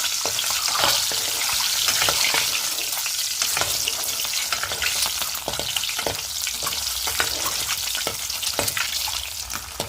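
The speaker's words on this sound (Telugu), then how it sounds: "ఆ 3 ఎగ్స్ అయితే లైట్గా అయితే ఆయిల్లో ఫ్రై చేసేసుకోవాలి." Three eggs frying lightly in oil in a pan, a continuous close sizzle and crackle with scattered sharp pops, without any talk.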